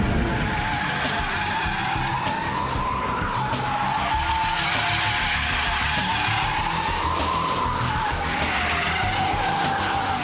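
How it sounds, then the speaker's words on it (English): A Subaru Impreza P1 road car does four-wheel power slides, with loud, continuous tire squeal and skidding over a hard-revving engine, heard close and steady throughout. "And four-wheel power slides."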